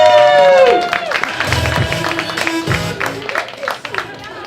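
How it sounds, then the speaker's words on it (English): Audience at a stand-up comedy show clapping and cheering, with a high whoop at the start and lively crowd noise mixed under voices and shouts. "Clap for it!"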